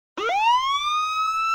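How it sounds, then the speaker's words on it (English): A police car siren rising in a single upward wail and holding a steady high tone, loud and alone after a moment of silence. "A police car."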